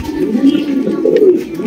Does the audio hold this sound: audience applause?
no